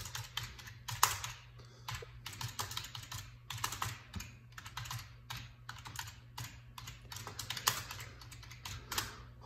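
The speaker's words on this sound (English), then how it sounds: "Let me type this in." Fast, uneven typing on a computer keyboard, with close, steady clattering keystrokes that come in bursts and short pauses, heard alone at low volume.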